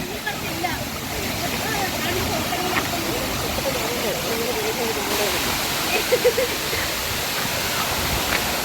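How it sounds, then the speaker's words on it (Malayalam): Steady broadband rush of the Gunung Pulai waterfall in Johor, Malaysia, a continuous wash of falling water heard close by with faint voices of people bathing nearby. "ഇതിൻ്റെ മേലെയാണ് വെള്ളച്ചാട്ടം."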